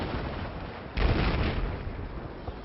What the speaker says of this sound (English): he's getting shot by one of the IFVs